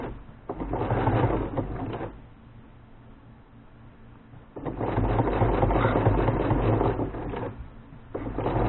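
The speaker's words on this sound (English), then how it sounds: "I'm only top stitching the front to the back." A sewing machine top stitches the front of a pants pocket opening to the back, running in two steady mechanical bursts separated by a quieter pause, close and alone.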